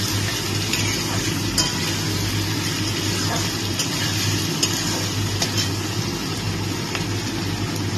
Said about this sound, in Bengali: এটা আমার মোটামুটি কিছুটা ভাজা হয়ে গেছে।